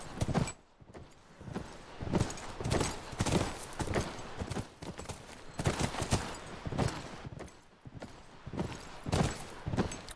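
Horse hooves in The Last of Us: steady, rhythmic clip-clop of several hooves on the ground, close and distinct, with no talk.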